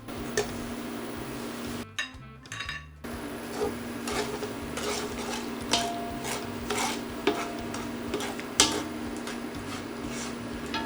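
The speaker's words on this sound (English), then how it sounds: "Now that the oil is hot, I'm gonna add the brown sugar." Brown sugar hits hot oil in a pot for Jamaican coconut oxtail, giving a soft continuous sizzle, while a spoon stirs and scrapes with repeated sharp clinks against the metal, close and fairly quiet.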